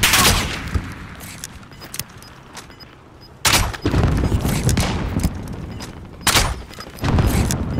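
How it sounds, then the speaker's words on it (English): Bursts of video game gunfire in a battle royale match, sharp volleys of shots with booming impacts arriving in three heavy clusters, loud and close, separated by quieter stretches of scattered pops and rumble. "Taking fire over here."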